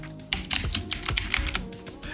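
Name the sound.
typing on a computer keyboard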